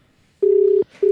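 A telephone ringback tone sounds over a call line as a loud, pure steady beep of about half a second, followed by a short gap and then the start of the next beep.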